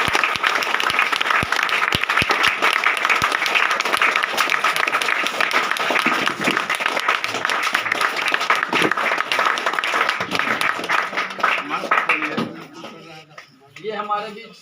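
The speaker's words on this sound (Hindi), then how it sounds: "जोरदार तालियां" An audience gives loud, sustained applause for a guest at a rural business gathering, dense clapping that continues for about twelve seconds before thinning out and fading into a few scattered claps.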